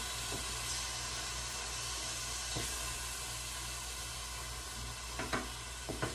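A mushroom and pea risotto sizzles steadily in a pan as broth is added a ladle at a time and slowly stirred, with a soft even hiss and a few faint spoon scrapes near the end.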